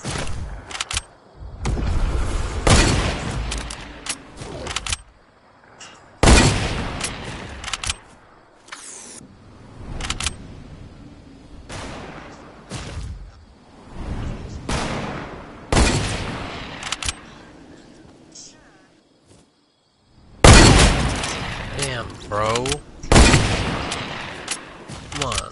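Gunfire in the video game Fortnite comes in repeated loud bursts of sharp shots separated by quieter gaps, with a final cluster of shots near the end.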